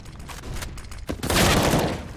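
Pistol gunfire in a Counter-Strike match: a few quick sharp shots, then a denser burst of fire with a brief crackling tail, loud and close.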